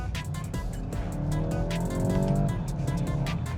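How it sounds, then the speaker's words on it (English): VW Golf GTI engine and exhaust under hard acceleration, a steady loud drone with rising harmonic tones that climb and level off, heard close and continuous with no talking. "you can hear more exhaust or engine in that case"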